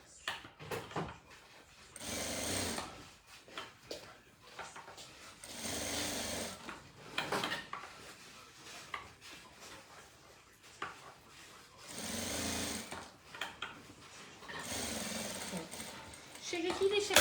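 A sewing machine stitches a hem on shorts for a bear costume, running in bursts of a few seconds with pauses between them, fairly loud and close, and with speech heard in the gaps.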